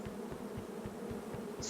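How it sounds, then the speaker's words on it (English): Beehives in a video game give off a dense, continuous insect buzz with a pulsing, wavering drone, loud and close throughout with no voices over it. "Fucking beehives. Oh God, it's so fucking loud."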